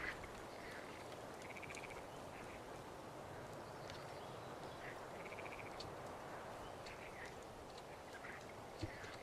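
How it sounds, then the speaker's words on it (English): Frogs croaking by a pond in the medieval city-building game Manor Lords, a faint, steady chorus of repeated ribbits and chirps over a soft ambient bed, with no speech. "There's like frogs ribbiting by the water and stuff."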